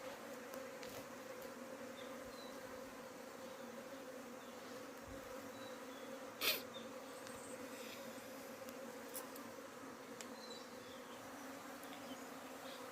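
Honeybees buzz steadily around an open hive box outdoors, a continuous mid-level drone of many insects with one brief louder pass close by partway through; no talking.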